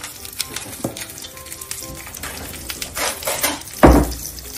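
Charolais lamb sears in a hot pan, with a steady sizzle and occasional clinks of utensils against the pan, ending in a sharper burst of frying.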